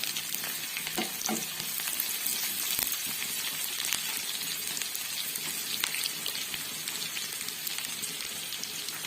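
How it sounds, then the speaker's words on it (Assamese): Onions and chopped chilies sizzle steadily in a pan, with scraping stirs and spatula clicks breaking through the continuous frying hiss, close and fairly loud throughout. "পিঁয়াজখিনি দি অকণমান লৰাই লৈছোঁ। কাটি থোৱা জলকীয়াখিনি দি দিলোঁ"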